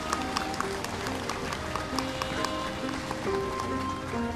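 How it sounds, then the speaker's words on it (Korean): Dense, steady applause from a large crowd fills a Buddhist ceremony enthroning the Jogye Order's 15th supreme patriarch, sustained evenly throughout without a break. "참석해주신 모든 원로대도 큰 스님, 내빈 스님들께 여러분 큰 박수 부탁드리겠습니다"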